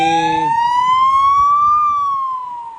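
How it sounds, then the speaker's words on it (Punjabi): An ambulance siren on a European road wails loud and close in one long continuous rising and falling sweep, fading a little at the end, with no voices. "ਐਂਬੂਲੈਂਸ ਦੇਖੋ ਯੂਰਪ ਦੇ ਵਿੱਚ ਕਿਸ ਤਰ੍ਹਾਂ ਜਾਂਦੀ ਹੈ"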